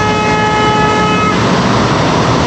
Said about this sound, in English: Yeah, keep honking, bro.